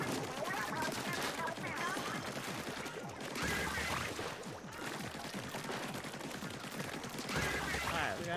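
Ink weapons fire continuously in Splatoon 3 story mode, a dense, steady spray of shooting sounds that stays loud throughout with only slight dips and swells.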